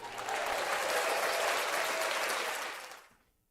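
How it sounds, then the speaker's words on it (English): Canned crowd applause fired from a soundboard button swells in quickly, holds as a steady, full burst of clapping, then fades out cleanly after about three seconds. "The man deserves the applause."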